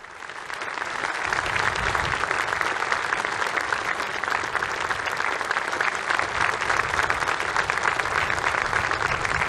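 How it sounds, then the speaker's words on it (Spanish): Sustained, dense applause from a large crowd for the president of Slovakia after her speech before Pope Francis in Bratislava, steady and loud throughout with no voices standing out. "Este es el aplauso que recibe la presidenta de Eslovaquia después del discurso que ha pronunciado delante del Santo Padre"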